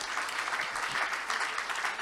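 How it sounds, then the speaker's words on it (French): Audience at a French business leaders' colloquium applauding four speakers, a steady wash of many hands clapping at moderate distance, evenly sustained for the whole moment. "on peut les applaudir tous les quatre"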